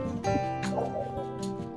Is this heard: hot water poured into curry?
no